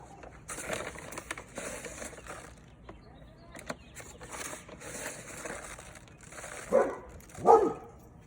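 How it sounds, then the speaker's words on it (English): A dog barks at a neighboring dog outdoors in spring, the barking faint and distant for most of the stretch, with two louder barks near the end, over light rustling and soft background noise. "My dog barking at the neighbor dog."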